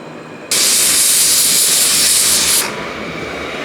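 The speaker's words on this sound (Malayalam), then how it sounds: "3 വിസിലടിച്ചിട്ടുണ്ട്." A pressure cooker on the stove lets off a loud, close burst of hissing steam that starts abruptly, holds for about two seconds, then drops back to a quieter steady hiss; no talking.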